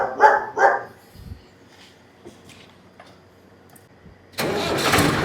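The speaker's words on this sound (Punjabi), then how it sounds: "ਚਲ ਸਟਾਰਟ ਕਰੇ ਟਰੈਕਟਰ" A farm tractor for sale in a Punjabi village starts up with a sudden loud, close roar that keeps running to the end, after two short dog barks and a stretch of near silence.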